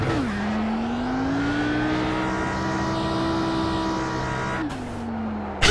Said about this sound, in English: Let's see what a second gear burnout's like.